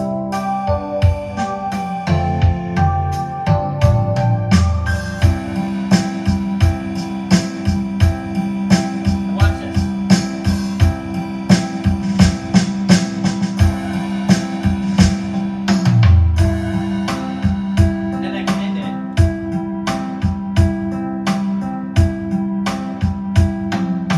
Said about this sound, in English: So if I was going to start this out with the second variation